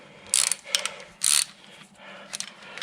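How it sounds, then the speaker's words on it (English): A small 3/8-inch ratchet working on 13mm shock bolts of a Jeep Grand Cherokee, rapid bursts of clicking pawl in three or four separate strokes, close and crisp. "let's see if we can take it out with this little 3/8" ratchet"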